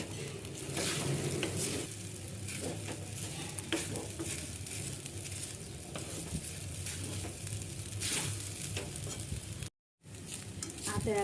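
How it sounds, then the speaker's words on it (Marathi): Sabudana khichdi being stirred and mixed in a frying pan: continuous sizzling with scraping strokes of a spoon against the pan, close and steady, with a brief gap of silence near the end. "आता याला चांगलं पूर्णपणे मिक्स करून घ्यायचं."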